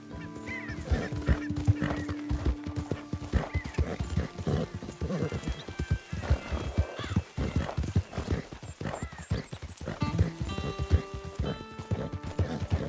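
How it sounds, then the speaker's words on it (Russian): Horse hooves clip-clop in steady rhythm in the video game Red Dead Redemption 2, with occasional neighs and whinnies, fairly close and moderately loud, while someone talks quietly over the gameplay. "Кстати, лошадочка, ну-ка стой."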